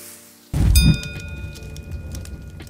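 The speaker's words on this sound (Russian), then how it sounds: "Жарится все очень быстро, потому что фарш тоненький." Tortillas topped with thin ground meat are laid meat-side down on a hot gas grill, giving a sudden close thump and then a steady crackling sizzle.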